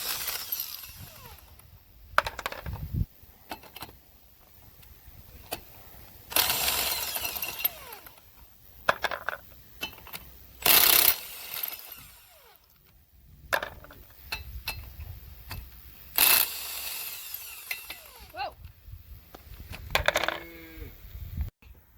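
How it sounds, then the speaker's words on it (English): Metal tools clank and scrape while a wheel comes off a 2004 Chevrolet Silverado during a wheel bearing replacement, with scattered sharp bangs and rattles separated by quiet pauses. "First things first, we got to get the wheel off."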